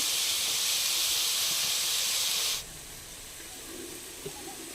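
Sliced onions with a little salt sauté in a pan, giving a loud, steady sizzling hiss that suddenly drops to a much quieter simmer partway through, with a faint clink near the end.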